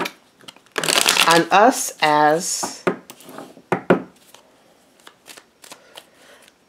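Tarot cards being shuffled, a loud riffling burst followed by softer taps and flicks, heard close up with a person speaking over part of it.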